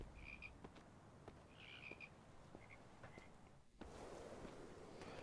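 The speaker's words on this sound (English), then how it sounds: "Okay, these are most likely frogs because toads prefer to get around by crawling instead of hopping." Frogs croak in a video game, a run of short repeated croaks over a steady ambient background, fairly quiet and without talk.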